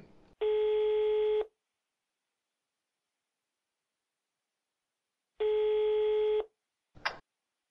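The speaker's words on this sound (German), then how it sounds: "Also, den rufe ich jetzt gleich mal an." A telephone call rings out with two long, loud, steady ringback tones separated by silence, then a short click as the line connects.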